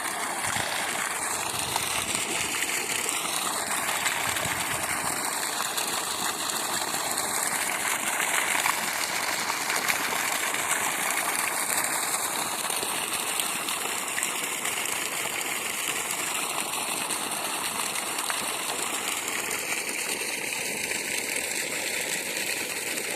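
Steady, loud rush of water gushing continuously from a borewell under the constant mechanical hum of a 5 HP motor, with faint birdsong-like tones above, no talking.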